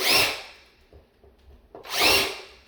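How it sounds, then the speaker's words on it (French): Power drill pre-drilling screw holes into plastic while installing a fine fabric window blind frame: two short, close, high whining bursts of the drill, separated by a quiet gap with faint handling sounds. "Je préperce les trous en premier."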